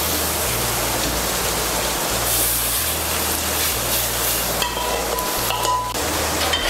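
Boiled chana dal being stirred into a frying spice masala for a Bengali cholar dal, with no extra water added. A close, steady sizzle carries on throughout, with scraping stirs.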